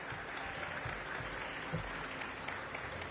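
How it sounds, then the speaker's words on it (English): Audience applause for leaders at a Latino Heritage Month celebration, a steady, dense wash of clapping held at an even level throughout, fairly distant and alone, with no voices over it. "Give a round of applause to all of these leaders that are here."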